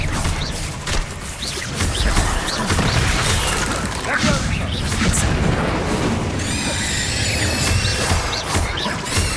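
Confringo blasting spells explode repeatedly in Hogwarts Legacy, a dense run of booms and crashes over constant game music and effects, with a shimmering burst near the end.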